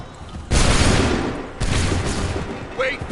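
Musket volleys firing in the video game Assassin's Creed 3: two loud, close, booming bursts about a second apart, each with a rumbling tail, over faint background noise.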